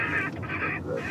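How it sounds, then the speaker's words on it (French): A recorded rook call is played from a speaker at an airport to drive birds off, a couple of loud, harsh, nasal caws in quick succession. "Ça, c'est le cri du corbeau freux."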